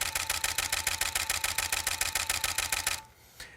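A camera shutter fires in continuous high burst mode at roughly 7 frames per second, a fast, even mechanical rattle of repeated clicks for about three seconds before stopping abruptly into quiet.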